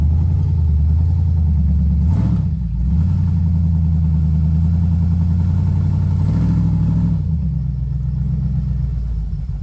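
Jeep with oversized tires and a tall lift crawling up rugged rock stairs, its engine a loud, steady low rumble that rises and dips with two brief surges, heard close with no talk.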